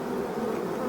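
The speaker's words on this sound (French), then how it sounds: "Toutes les abeilles qui sont dehors sonnent le rappel" Honeybees from an evening swarm that dropped into nettles buzz outside the hive, sounding the recall. A steady, dense droning hum holds without a break through the whole short moment.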